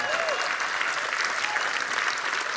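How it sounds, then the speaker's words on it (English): Steady applause from an audience at the 2021 BILD Awards ceremony, a dense even patter of clapping that holds at a constant level for the whole stretch with no voices over it. "A round of applause for that leadership,"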